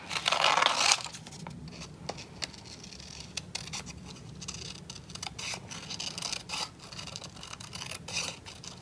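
Paper circles cut by hand with scissors, giving soft repeated snips, scratches and rustles of paper at close range in a quiet room, starting with a brief louder rustle.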